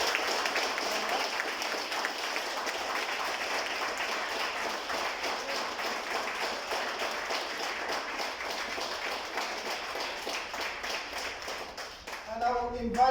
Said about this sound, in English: give Dr. Samuels the biggest round of applause